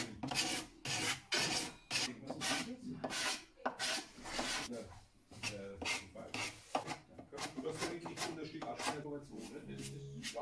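A rasp files wood on a classical guitar in a building workshop, giving repeated rough scraping strokes at a steady rhythm with broadband noise, moderately close, while people talk in the room.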